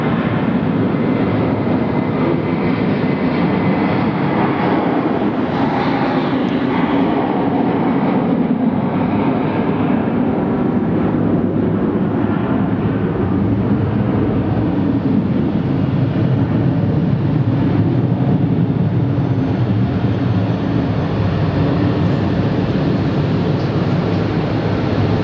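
A loud, sustained jet engine roar at full power, broadband and steady throughout, from an airliner with IAE V2500 engines taking off nearby at Phoenix Sky Harbor on a very warm day.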